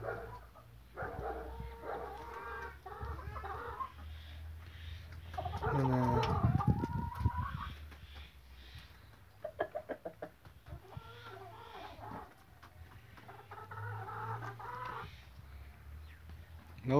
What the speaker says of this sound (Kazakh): Тауықтар мына қораз далада сыртта.